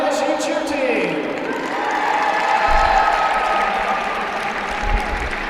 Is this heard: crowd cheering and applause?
yes